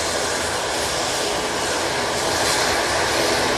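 Boeing 787 Dreamliner arriving from Cancun at Manchester Airport, a loud, continuous broadband jet roar close by, steady over several seconds with no talk.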